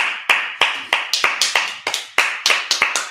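A congregation at a Sabbath service claps together in a quick, uneven run of about a dozen sharp, loud claps.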